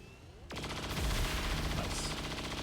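A soldier opens fire in XCOM 2: War of the Chosen, a sudden loud burst of rapid automatic gunfire that starts after a moment of quiet and rattles on continuously to the end.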